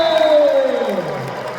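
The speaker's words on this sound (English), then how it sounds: "Give a massive round of applause" An arena crowd at the Giants Live strongman event in Glasgow in 2025 cheers loudly in a short burst, with a sliding, falling tone cutting across the roar.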